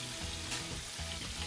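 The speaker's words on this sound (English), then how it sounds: "You definitely want that sizzle when the stuff hits the oil." Walleye wings and cheeks sizzle steadily in hot frying oil, a close, dense crackle and hiss that continues evenly from start to finish with no voices.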